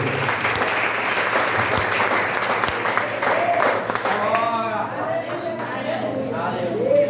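A church congregation applauds in a dense, steady wash of clapping throughout, with voices calling and singing faintly over it toward the end.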